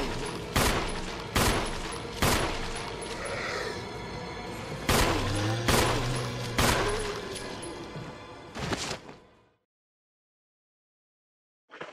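Repeated loud gunshots blasting at zombies in Resident Evil, sharp single reports a second or so apart with booming impacts, running for about nine seconds before silence.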